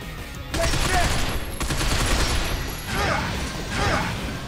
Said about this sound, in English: There are explosions around him.